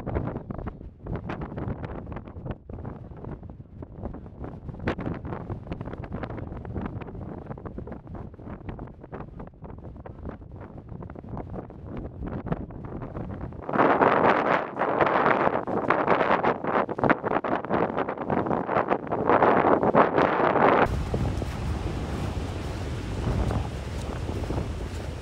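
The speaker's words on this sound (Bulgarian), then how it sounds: "Явно днес е решило да духа яко." Strong winter wind blows through the Stara Planina mountains. A continuous roaring rush buffets the microphone and swells into louder gusts partway through before easing slightly.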